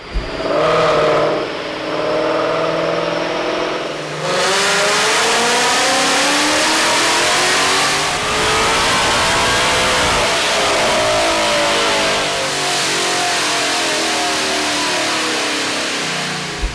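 A loud Vortech-supercharged Gen 3 Coyote V8 in a 2022 Mustang GT winds up through a long, sustained rev on a dyno, with a steady high whine over the roar, held for many seconds before easing off.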